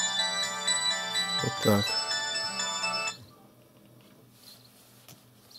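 A mobile phone rings with an incoming call, its bright melodic ringtone playing for about three seconds before cutting off, followed by quiet room sound and a brief spoken phrase.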